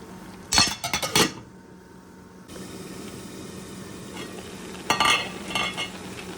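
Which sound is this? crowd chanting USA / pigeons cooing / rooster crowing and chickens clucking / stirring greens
stirring greens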